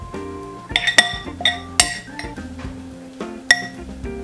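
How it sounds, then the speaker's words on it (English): A spoon scrapes and clinks against a bowl as kale is served over a grain bowl, giving a few sharp metallic taps between softer shuffling, close by with no talking. "And I'm just gonna spoon this over top too."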